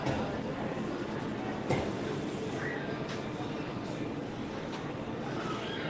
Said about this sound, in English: Is this Monorail Blue? Monorail Blue, maybe?